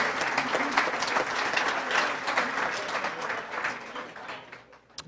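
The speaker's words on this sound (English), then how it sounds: "give him a round of applause, please" Audience applause at a Hall of Fame induction ceremony for Ron Frederes, a sustained dense wash of many hands clapping in a large hall, steady throughout and fading slightly toward the end.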